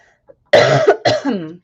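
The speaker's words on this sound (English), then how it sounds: "Excuse my cough." Two loud, close coughs in quick succession, the second one rougher and trailing off, following a tiny faint click.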